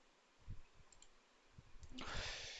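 A few soft, irregular clicks from typing on a computer keyboard in Notepad sound close and faint. Near the end, a brief burst of brighter noise rises.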